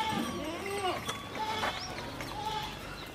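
Pregnant Rajasthani goats on a farm give several short, wavering bleats at moderate distance over steady background noise.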